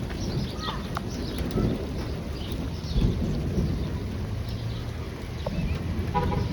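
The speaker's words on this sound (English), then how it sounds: "Cool thunder." Thunder rumbles low and broad through a passing storm with rain falling, a swelling roll around the middle over steady wet hiss, fairly close and loud, no one speaking.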